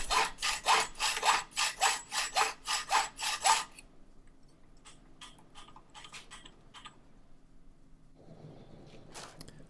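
A metal file rubs back and forth across the excess end of a rivet during window work, about ten rhythmic close strokes, followed by quieter scattered handling clicks.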